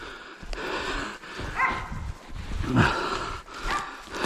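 A hunting dog barks a few times at a distance in a forest amid outdoor noise and rustling, the barks sharp but not very loud.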